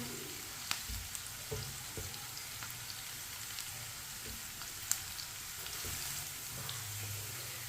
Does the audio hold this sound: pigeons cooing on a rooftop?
no